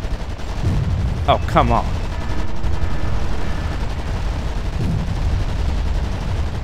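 Gunfire and artillery from the war strategy game Wargame: AirLand Battle, a loud continuous rumble of shots and blasts with brief sharper bursts, under a player's short spoken reaction.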